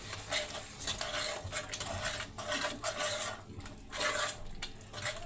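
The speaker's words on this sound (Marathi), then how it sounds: "आता मी याला थोडंसं मिक्स करून घेते." Lasooni methi, a garlic and fenugreek dish, being stirred in a pan: repeated scraping and clinking of a utensil against the metal in uneven rhythmic strokes, close and fairly loud.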